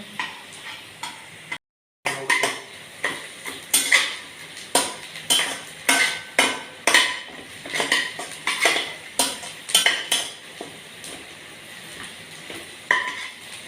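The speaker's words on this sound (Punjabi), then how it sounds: "ਪਿਆਜ਼ ਤੇ ਸ਼ਿਮਲਾ ਮਿਰਚ ਭੁੰਨੀ ਜਾ ਰਹੀ ਆ" Onion and bell pepper stir-fried in a metal pan, a spoon scraping and clattering against it in quick repeated strokes over a constant sizzle, loud and close, after a brief silent break near the start.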